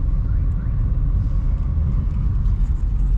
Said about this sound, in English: you can see the number of trucks using the road